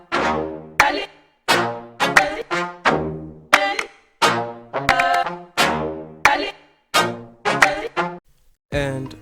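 A chopped loop of African chanting from BandLab plays with trumpets layered in, cut into short bursts of voices and horn tones with brief gaps in a choppy, repeating rhythm.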